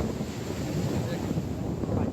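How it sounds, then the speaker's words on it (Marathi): Strong sea waves surge against shoreline rocks in a continuous, loud, rumbling wash, heavily mixed with wind buffeting the microphone throughout. "तिकडे जाम जोरात लाटा येतात आहेत"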